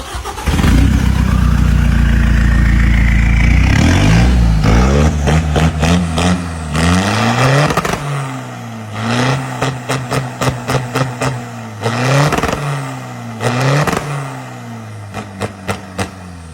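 An Isuzu Revo pickup's diesel engine with an Isuzu injection pump starts up with a loud churning crank, then settles into a steady idle broken by a series of sharp, repeated revs, close and alone without talk.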